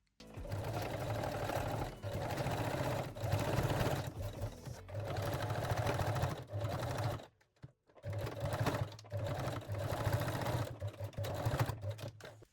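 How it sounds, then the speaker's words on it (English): A sewing machine runs a straight stitch along a bralette closure in long continuous bursts, pausing briefly near the middle before starting again, close and steady. "sew the closure with the straight stitch"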